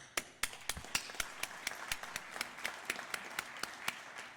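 Scattered audience applause at an annual review gathering: a modest number of separate, sharp claps in an uneven rhythm, fairly close and clear, with no talking over them.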